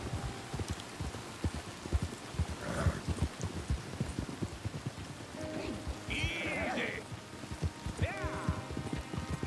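Horse hooves clip-clopping at a steady walking rhythm in Red Dead Redemption 2, close and continuous, with light rain patter behind and people talking over it.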